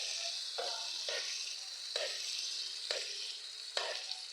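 Corned beef fries in an oiled pan, crackling and spitting in a constant sizzle broken by about six sharp bursts of splatter, close and moderately loud with no talk.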